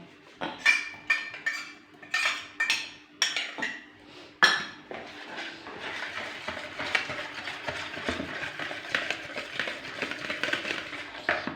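A spoon clinks and scrapes rhythmically against a bowl as yogurt is mixed with spices for a chicken marinade, starting with distinct knocking strokes and then settling into quicker, softer continuous stirring, close and quiet.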